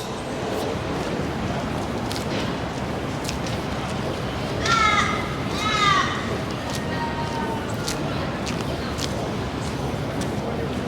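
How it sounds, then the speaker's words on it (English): Two harsh, drawn-out caws from a crow in a tree ring out over a steady street-noise background on George Street, Sydney, near the light rail, moderately distant. "The dirty crow moaning up in the tree there."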